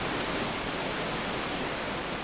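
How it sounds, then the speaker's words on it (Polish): Constant rushing roar of a waterfall in the video game Gothic II, a steady dense hiss with no breaks, fairly loud and alone. "jednak wodospad jest tutaj"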